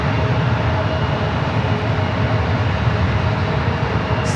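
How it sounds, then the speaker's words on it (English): A Japan Airlines Boeing 787-9 Dreamliner arriving at SFO from Tokyo Narita gives off a steady, broad jet roar that holds at an even level throughout, with no voices. "the flight coming in from Tokyo Narita, 787-9 Dreamliner, Japan Airlines"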